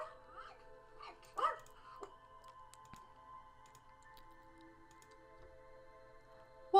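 In the indie game Rainswept, a dog gives a few soft whimpers and a short bark, fairly quiet against a faint ambient backdrop.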